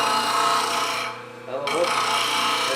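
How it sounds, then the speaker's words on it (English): A wood turning scraper being sharpened on a sharpening jig, a loud continuous rasping grind that dips briefly in the middle, then resumes at full strength. "so as I sharpen this"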